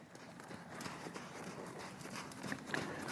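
Horse hooves clip-clop steadily through a horse trailer-loading session, a continuous run of near, moderately loud footfalls with a few sharper knocks toward the end.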